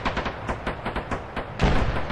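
Rocket launcher fire and heavy gunfire from an Arma Reforger battle, a rapid series of loud booming reports in close succession ending in a larger, heavier blast.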